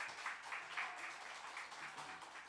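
Church congregation at a Sunday worship service clapping to welcome members, a soft, distant, continuous patter of many hands heard faintly throughout.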